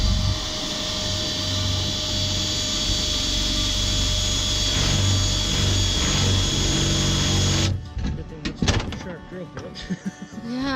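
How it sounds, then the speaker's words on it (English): A power drill whines steadily for several seconds, then stops; clattering, knocking and voices follow afterward. "I'm getting ready to drill through"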